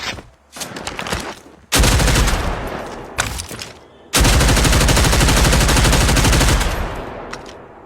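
Loud bursts of rapid automatic gunfire come in sustained volleys with brief gaps between them, dense and crackling, with no voices over the shooting.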